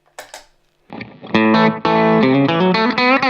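A few faint plucked notes open, then a country electric guitar through a compressor and a delay pedal plays a lively phrase of bright, sustained notes that blur softly into one another, close and loud with no voice.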